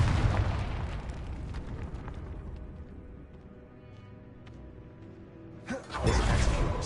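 A Confringo spell blast in Hogwarts Legacy, a rumbling fiery burst that fades into a quieter stretch, then a second loud boom hits near the end.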